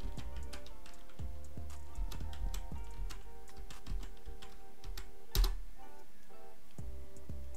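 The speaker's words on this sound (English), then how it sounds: "I'll type my password." A password is typed on a computer keyboard while logging into point-of-sale software: a quiet, close sequence of irregular key clicks with short pauses and one sharper tap near the end.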